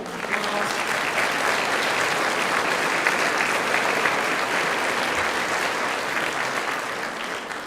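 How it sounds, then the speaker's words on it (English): Audience applause fills the room at a Teachers of the Year banquet, a dense, steady clapping from many hands that holds at full strength for several seconds before easing slightly at the end. "we need to give that group of people a round of applause"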